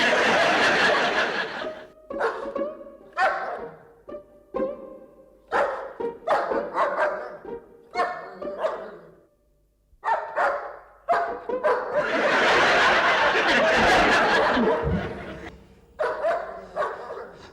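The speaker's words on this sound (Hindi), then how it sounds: "ये डॉग अलार्म कुछ ज्यादा ही नहीं भौंक रहा है?" A dog alarm barking loudly and repeatedly in short bursts, with pauses between volleys and a long sustained stretch near the end, mixed with chuckling and laughter.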